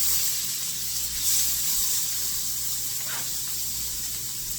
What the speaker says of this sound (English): So when these vegetables go in, they sizzle.